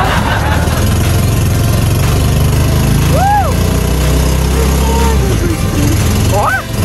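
Small engine of a mini Volkswagen Fusca running steadily and loud through the whole stretch, shifting gear midway, with people talking and exclaiming over the engine noise out on the street.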